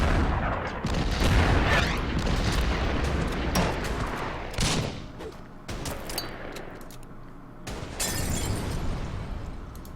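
Units in the Order of Battle strategy game open fire, producing dense bursts of gunfire and booming artillery-like blasts in several loud clusters, with no talk over them.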